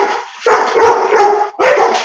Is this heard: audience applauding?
no